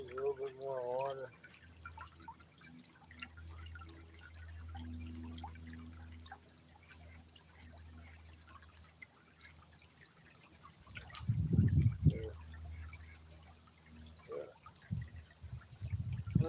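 Water being added to a cooking pan, with close drips and a short pouring splash midway, a voice talking intermittently around it.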